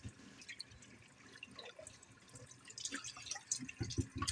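Tap water running over a raw turkey being rinsed in a sink, soft trickling and dripping with occasional splashes, fairly faint and close.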